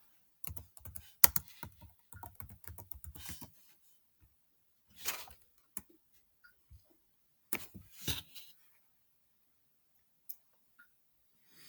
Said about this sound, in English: And then start typing.